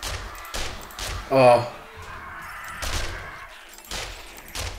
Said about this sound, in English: because I fired my gun, there are loads coming